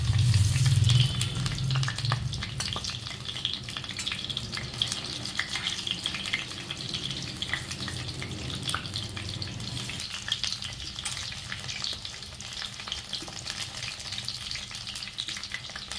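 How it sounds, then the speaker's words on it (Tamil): Stuffed brinjal frying in oil in a pan with a lentil filling, stirred on medium heat; a steady, close sizzle with scraping and stirring sounds throughout, with a few heavier clatters at the start. "இப்போ லேசாக அப்படியே பரட்டி விடணும்."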